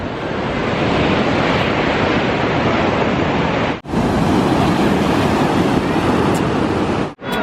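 Loud, roaring ocean surf crashes continuously on the coast of Nusa Penida, Bali, with a brief drop near the middle and another near the end, and no talking.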